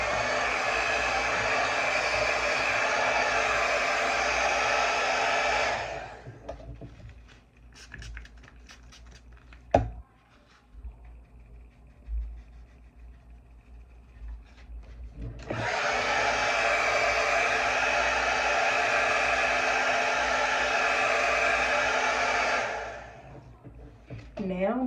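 Hair dryer blowing on skin protection during a wig install: a steady, loud whooshing hum for several seconds, a quiet pause with light tapping and handling, then the dryer running again, with a person talking at times.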